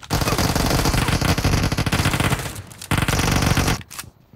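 An Uzi submachine gun fires in the BGMI mobile battle-royale game with long, loud, dense bursts of rapid automatic shots. The firing breaks briefly midway, then resumes before cutting off near the end.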